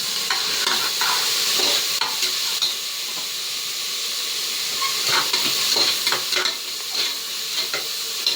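Chopped tomato goes into a pan of sizzling, browned fried onions for a goat head curry kulambu, giving a loud close hiss and crackle broken by repeated stirring scrapes against the pan, with no talking.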